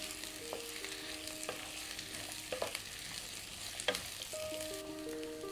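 Onion, capsicum, carrot and cabbage stir-fry for chow mein, a soft continuous sizzle under occasional spatula scrapes and metallic clinks against the pan, close but fairly quiet.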